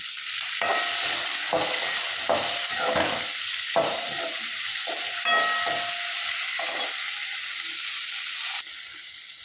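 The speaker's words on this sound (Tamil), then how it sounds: "வெண்டைக்காய் நல்லா வதங்கிடுச்சுங்க" Okra frying in a pan, a loud steady hiss of sizzling oil broken by repeated scraping stirs, close and continuous without any talk.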